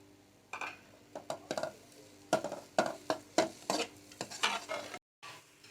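Nawabi halwa roasting in ghee with crushed almonds, pistachio and coconut, stirred with repeated scraping strokes against the pan and a soft sizzle underneath, fairly quiet and close.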